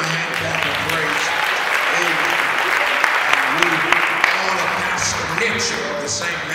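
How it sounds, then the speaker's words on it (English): A church congregation claps in praise for its pastors, a dense, steady wash of applause from many hands that carries on throughout with talk mixed in beneath it. "give them a hand clap of praise"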